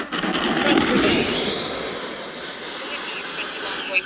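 Horizon Hobby RC F-16 model jet with its engine roaring loud and close, then settling into a steady high whine with a long sustained tone that bends downward near the end as the thrust is reversed.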